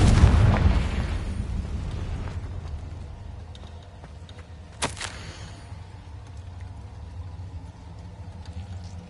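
A Confringo spell explosion in the video game Hogwarts Legacy: a loud, deep blast at the start that rumbles and fades over several seconds, followed later by a brief sharp crack.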